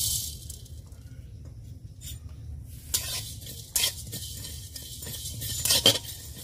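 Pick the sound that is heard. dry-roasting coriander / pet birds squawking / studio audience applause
dry-roasting coriander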